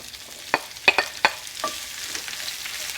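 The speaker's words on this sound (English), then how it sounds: "Our oil is shimmering, so in goes 2 sweet onions that have been cut in half and then" Two sweet onions, halved and thinly sliced, go into shimmering oil, giving a soft sizzle broken by several sharp crackles and spatters early on, then settling into a quieter steady fry.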